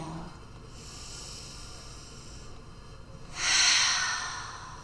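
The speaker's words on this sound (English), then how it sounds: "Inhaling through your nose" A deep breath drawn in through the nose swells to a broad, airy hiss near the end, following a quieter stretch of soft breathing, close and alone.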